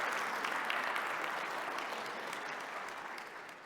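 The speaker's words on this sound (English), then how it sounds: "Yes, you should clap about that." A large audience at a farm bureau annual meeting claps steadily, a dense wash of applause that holds for several seconds and fades slightly toward the end.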